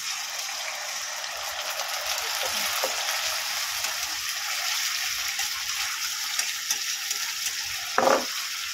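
Water poured into a hot pan of soybean curry brings an immediate bright sizzle and hiss that settles into steady frying bubbles, with a sharp burst of spluttering near the end.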